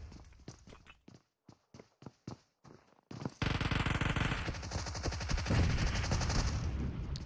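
Gunfire in a PUBG Mobile championship match: a few separated single shots, then a loud sustained burst of rapid automatic fire that rattles on to the end.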